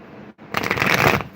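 Tarot cards are shuffled close up, with a brief riffle, a short pause, then a loud, dense burst of flapping and ruffling that lasts nearly a second.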